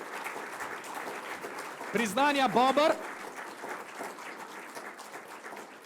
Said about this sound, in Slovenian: Dajmo še en aplavz za vse prejemnike